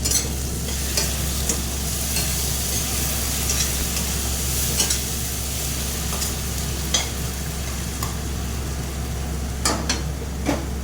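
A paste of tomato and garlic with green chilies hits hot oil in a pan after dried fish has been fried in it. It makes a continuous close sizzle, with scattered light scrapes and taps of a stirring spoon.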